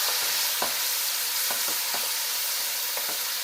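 A spoon stirring spiced food frying in oil for a Haitian meal, a continuous loud sizzle broken by several soft scrapes and knocks of the spoon against the pot, no voices.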